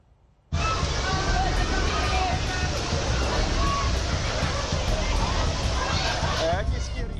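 Floodwater after heavy rain in Maham, Rohtak, Haryana rushes in a loud, continuous roar that starts abruptly and sweeps a scooter along, with crowd voices mixed into the churning flow.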